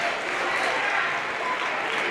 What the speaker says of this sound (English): Crowd certainly letting Ava Watson hear it.